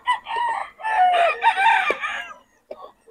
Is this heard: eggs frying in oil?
no